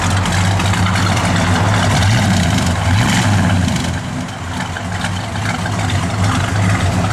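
Exhaust of a 1968 Dodge Coronet R/T V8 burbles at idle with a deep, lumpy rumble and a slight cackle, loud and close. It dips briefly around the middle before returning to a steady throb, and no one talks over it.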